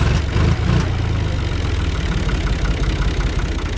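A Türk Fiat 480 single-speed tractor engine idles with a steady, close, throbbing rumble that carries evenly from start to finish, with no one talking over it.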